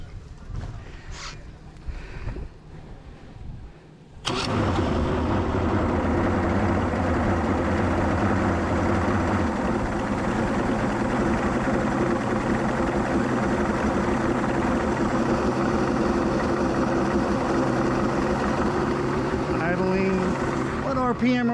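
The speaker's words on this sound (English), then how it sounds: "just fire it up and let it idle for a second." A 1999 Johnson 200 HP V6 outboard motor cranks and starts abruptly after a few seconds of quiet talk, then settles into a loud, steady close-up idle for the rest of the clip, with voices occasionally audible.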